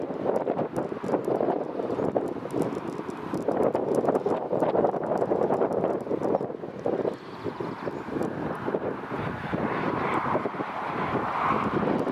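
A Corendon Airlines Boeing 737 MAX taxis at Newcastle Airport with a steady broad jet engine roar heard from outside at some distance, mixed with wind buffeting on the microphone and no talking.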